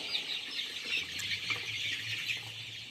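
Young chicks around 22 days old cluck and chirp in a poultry shed, with soft wing flapping and rustling close by amid continuous low background noise.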